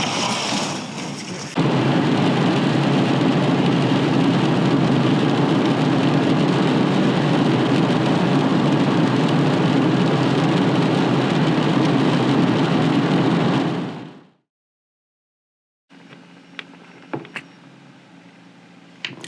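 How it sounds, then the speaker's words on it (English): Steady rain pours loudly on a boat out on the water during a fishing trip, a dense even hiss that fades out abruptly, followed after a pause by quieter ambient sounds with a few small knocks. "it was a rainy day out on the water"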